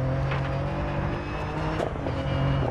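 A rally car engine from the Dirt 4 video game drones steadily and loudly throughout, with a constant roaring tone and slight rises in pitch as the car drives over rough terrain.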